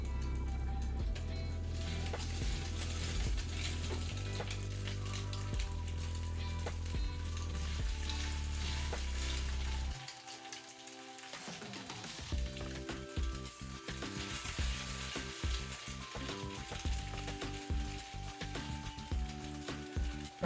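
French toast slices frying in butter in a hot pan give a steady loud sizzle with low rumbling, briefly dropping away midway before the crackling frying resumes with scattered clinks.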